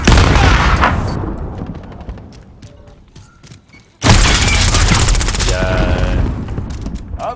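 SCAR rifle fired in Call of Duty: Modern Warfare, a loud, close burst of rapid automatic shots that tails off into mechanical clicks and rattles, then a second sustained volley of gunfire.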